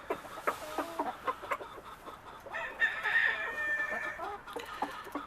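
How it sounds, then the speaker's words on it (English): Several hens cluck in short, repeated bursts close by, joined midway by a rooster's drawn-out crow before the clucking resumes. "And some hens."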